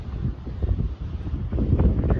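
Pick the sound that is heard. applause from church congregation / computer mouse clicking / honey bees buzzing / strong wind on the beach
strong wind on the beach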